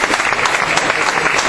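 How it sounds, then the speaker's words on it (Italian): Audience applause at a Carabinieri bicentenary concert, a steady dense clapping from a crowd filling the whole short moment, warm and even with no pauses. "E direi di fare un caloroso applauso"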